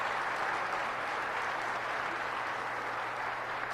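An audience at a presidential speech at the MOST museum in downtown Syracuse breaks into applause, a thick, continuous roar of clapping at a constant level throughout.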